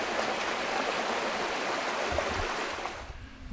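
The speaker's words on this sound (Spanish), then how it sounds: "Aquí tenemos una imagen de este río tan bonito." A river flowing in the Vega de Pas valley near San Pedro de Toranzo, a steady broadband rush of moving water filling the whole stretch, close and continuous with no voices.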